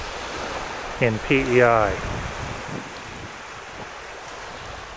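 Ocean surf washes onto the beach of a waterfront lot at St. Felix, Prince Edward Island, a steady windy rush with brief speech over it early on.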